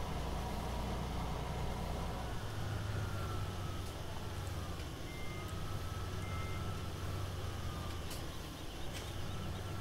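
A tractor in the Farming Simulator 17 video game sounds a repeated electronic reversing beep over a steady low diesel engine hum, the beeps evenly spaced and clear throughout.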